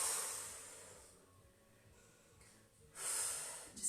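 A forceful exhale during a core exercise, a breathy hiss of air near the microphone that tapers off, then another sharp breath begins at the end.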